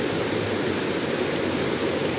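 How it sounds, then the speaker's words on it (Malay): A river runs past a campsite, its flow heard as a continuous, even rushing hiss that stays steady and fairly loud from start to finish with no talking. "Ni keadaan sungai."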